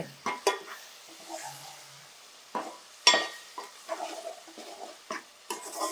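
Turmeric and chili powder fry in a pan with intermittent sizzling and stirring scrapes, a few sharp clatters against the pan between quieter stretches, no voices.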